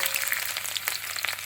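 Chopped garlic fries in hot oil with popped mustard seeds, giving a steady crackling sizzle with small sharp pops, close and fairly quiet, with no one speaking.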